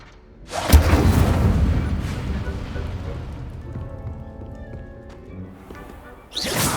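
An Incendio fire spell cast in Hogwarts Legacy: a sharp blast bursts into a roaring, crackling whoosh of flame that fades over several seconds, followed by a second burst at the end.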